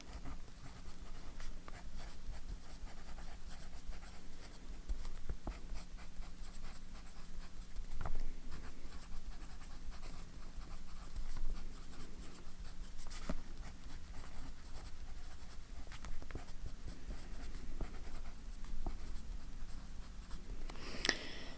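A fountain pen loaded with wet-flowing ink scratches steadily across paper, a soft continuous scratching and pattering of strokes close up, with no talking.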